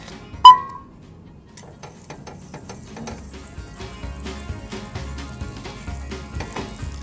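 Butter melting in a pan gives a faint, steady crackling sizzle over a low rumbling hum, after a single sharp click at the start.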